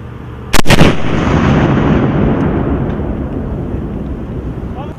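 A Carl-Gustaf M4 multi-role recoilless weapon fires one sharp, very loud close blast, followed by a long rolling rumble that slowly fades over several seconds outdoors.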